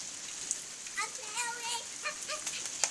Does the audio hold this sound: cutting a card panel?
no